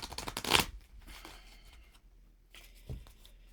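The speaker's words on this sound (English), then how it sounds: "let's try shuffling this way and see if it works a bit better" Oracle cards being shuffled up close, a quick burst of papery riffling at the start followed by softer scattered shuffles and a brief slap.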